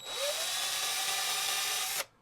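A power drill whines steadily at high speed for about two seconds, drilling holes in an Injora-upgraded FCX10 K5 RC crawler, close up and loud, then cuts off abruptly.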